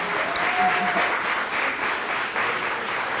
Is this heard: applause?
yes